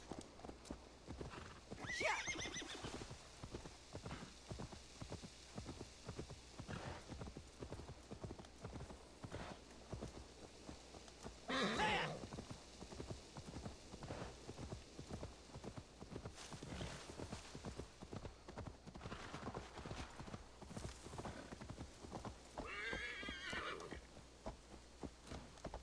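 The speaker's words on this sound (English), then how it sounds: "Probably faster to use my horse." Horse hooves clip-clop in a steady galloping rhythm in Assassin's Creed Valhalla, with occasional whinnies and neighs rising over the continuous hoofbeats, fairly close and prominent throughout.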